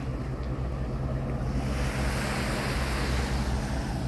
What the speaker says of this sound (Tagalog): Sa gilid ako ng dagat. Dagat, dagat muna.